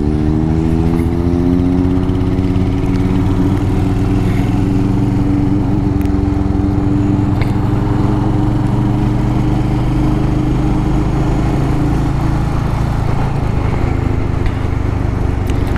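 A four-cylinder motorcycle with its original exhaust rides along a mountain road near Campos do Jordão. Its engine drones loud and steady throughout, holding a constant hum with slight shifts in pitch.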